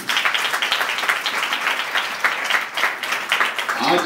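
A church congregation applauding during a sermon, loud sustained clapping from many hands with a fairly even pulse, filling the room for the whole stretch.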